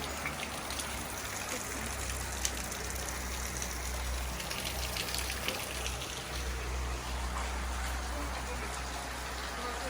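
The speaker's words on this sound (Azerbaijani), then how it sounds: "Bulaktan su damcı tökülür ve karışır" Spring water drips and flows into a river at a recreation area in Tovuz, Azerbaijan, making a constant, even rushing and trickling wash that stays steady and close throughout.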